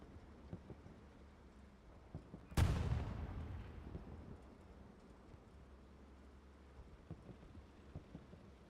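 Gunfire from the tank combat game Hell Let Loose: one loud, sharp artillery-like blast followed by a rumbling decay, with faint scattered distant shots before and after.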